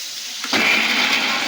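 Water poured into a hot pan of spices while cooking fish, with ginger, garlic, dried chilli, whole garam masala and cumin already in, erupting suddenly into a loud, steady hiss and sizzle after a quiet start.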